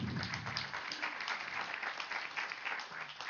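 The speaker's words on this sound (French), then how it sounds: "il mérite vos applaudissements" An audience at an Advancity general assembly claps in sustained, even applause with many hands together, moderately loud and continuous without a break.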